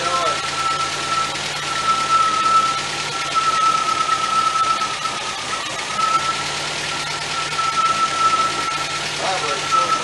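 A 1977 MGB engine runs and idles steadily with a strong vibration and a faint whine, close and continuous while someone talks.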